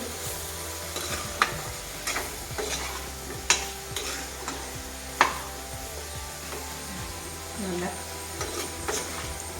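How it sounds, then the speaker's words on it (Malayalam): Chillies frying in oil in a pan, a steady close sizzle under a utensil stirring and scraping, with a few sharp metallic clinks. "ആ എണ്ണയിൽ ഇതിൻ്റെ ഒപ്പം തന്നെ മുളകും പാകത്തിന് മൂത്തോളും"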